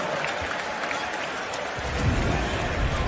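Basketball arena crowd at the Thomas and Mack Center during an NBA Summer League game, cheering and applauding in a dense, steady roar that swells louder toward the end.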